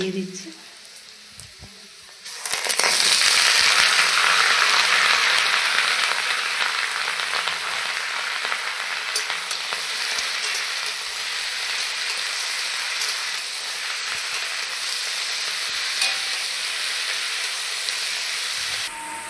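Chili, garlic and ash gourd sizzle in a hot pan, a loud steady hiss that bursts in after a quiet start and continues evenly throughout.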